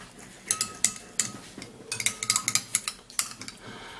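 A utensil stirs a homemade under-eye mixture in a container, clinking and scraping in quick, irregular taps close by, with no speech.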